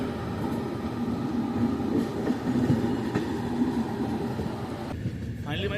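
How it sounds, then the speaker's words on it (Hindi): The Shaktipunj Express pulls out of Jabalpur Junction with a steady rumble of rolling coaches, heard from on board, with faint clatter and wheel noise throughout. "फाइनली हमारी ट्रेन का डिपार्चर हो गया जबलपुर से"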